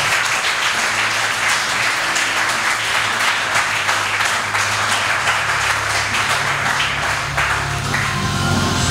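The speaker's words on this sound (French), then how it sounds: "Est-ce qu'on peut acclamer pour la parole?" A church congregation applauds and cheers during a sermon, a dense, steady wave of clapping close and loud that carries on without a break, with a low hum of voices beneath it.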